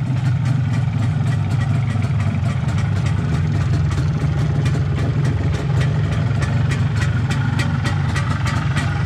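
An MZ ETZ 250 motorcycle's two-stroke engine idles just after starting, a loud, steady low rumble with a fast, even putter running continuously, close by and without talk.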